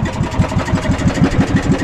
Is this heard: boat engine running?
yes